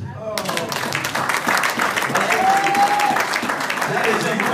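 A church congregation breaks into sustained, dense applause for the Lord, swelling steadily, with a voice briefly audible over the clapping.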